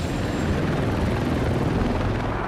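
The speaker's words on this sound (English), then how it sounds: "the fast-moving Marine One helicopters" A Marine One presidential helicopter flies past, one of several identical decoy aircraft, its steady broadband rotor and engine roar loud and continuous throughout with no breaks.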